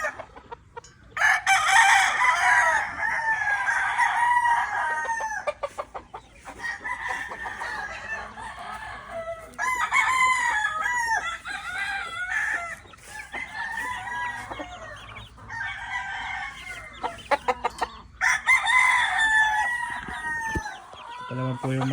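Young cockerels on a Philippine game farm crowing repeatedly, several overlapping calls in loud bursts with clucking between them, near and clear, a faint voice in the background.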